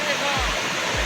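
A waterfall at the Kurudkute picnic spot in Deogarh roars in a steady, loud, broadband rush, with a couple of brief low thumps beneath the constant wash of water.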